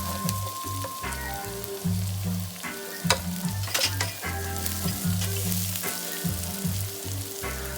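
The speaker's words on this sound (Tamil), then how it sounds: "வெங்காயத்தை நல்லா தாளித்து எடுத்து கொடுங்க" Onions, cumin seeds and curry leaves sizzle steadily in hot frying oil for a Sri Lankan-style crab curry, a continuous close hiss with occasional sharper pops under a tonal background.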